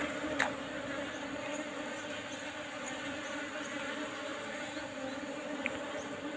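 Asian honey bees (Apis cerana) at an opened hive make a steady, dense buzzing drone, moderately close and continuous, with faint rustles and an occasional sharp tick.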